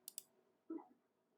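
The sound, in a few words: computer mouse click on the X in a UI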